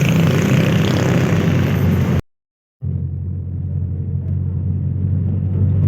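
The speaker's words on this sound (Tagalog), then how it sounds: "Ito yung first sinakyan namin. Jeep." Steady engine rumble and road noise from inside a jeepney on a commute, loud and continuous, broken by a short silent gap partway through.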